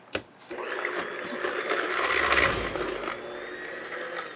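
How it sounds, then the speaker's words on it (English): Blondie batter with eggs and vanilla mixed by hand: a whisk clinks on the bowl, then wet slapping and swishing of batter builds and fades over a few seconds, close up. "We're going to give this a good mix."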